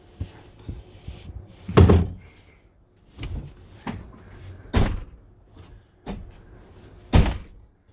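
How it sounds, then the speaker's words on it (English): Motorhome storage cabinet doors opening and closing nearby, a series of sharp thunks and clicks spaced irregularly, with quieter creaks and latch sounds between them. "You can hear the doors being opened and closed"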